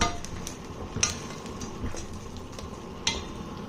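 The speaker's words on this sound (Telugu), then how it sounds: "బెల్లం వేసినాక మంచిగా మిక్స్ చేసేసుకోవాలి." Chana dal payasam stirred after jaggery goes in, a spoon scraping and clinking against the pot in a few sharp knocks over a soft, low simmering bed, close and fairly quiet.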